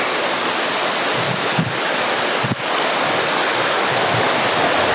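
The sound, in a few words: stream water at a hiking trail water crossing, Zion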